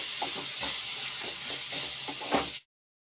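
Chili powder, salt and turmeric fry in a pan with a steady, close sizzling hiss and a few soft stirring scrapes, ending abruptly in silence.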